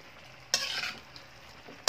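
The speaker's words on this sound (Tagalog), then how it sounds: "balik ahugon og mayo" Chicken curry being stirred in a frying pan, with soft scraping strokes over a low, steady sizzle and two sharper stirring bursts close by.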